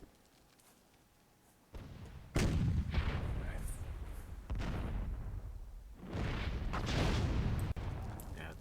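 Cannon and artillery fire from the video game Myth II Soulblighter, a sequence of heavy booming blasts after a quiet opening, each roaring burst rumbling on and overlapping the next, loud and sustained.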